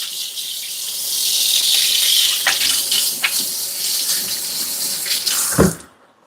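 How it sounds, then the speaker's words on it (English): Hands are washed under a running kitchen tap, a close, steady splash of water with brief clunks and rubbing sounds, ending abruptly as the flow shuts off. "So I'm going to wash my hands,"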